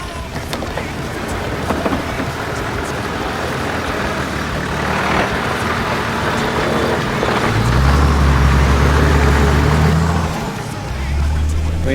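A 4WD car driving down a creek bank on a Cape York trip, its engine rumbling steadily and swelling louder with a deep low drone toward the end, with scattered knocks and rattles and voices faintly underneath.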